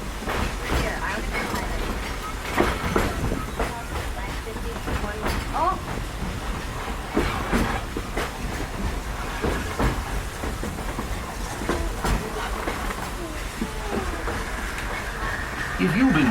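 The Walt Disney World Railroad train runs along its loop near Fantasyland, with a steady rumble, clicking wheels and scattered clatter, and crowd chatter and voices mixed in throughout.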